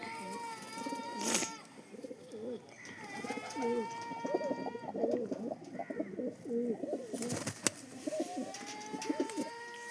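Pigeons coo repeatedly in soft, rolling throaty phrases, fairly close, with a couple of brief louder bursts of noise between the calls.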